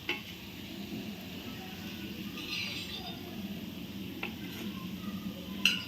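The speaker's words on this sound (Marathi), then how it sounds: "या दोन्ही बाजूनी आता छान शॅलो फ्राय झालेले आहेत" Cabbage vadi shallow fry in an iron pan, giving a soft, steady sizzle of oil that sits low in the background, with a few faint utensil clinks and a sharper tap near the end.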